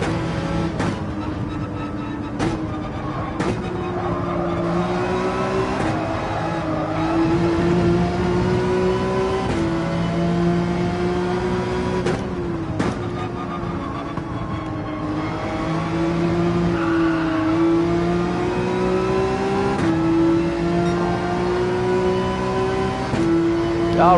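Race car engine in a racing video game, loud and continuous, revving through the gears with a downshift from fourth to third and throttle reapplied, sharp shift blips punctuating a steady high-pitched drone.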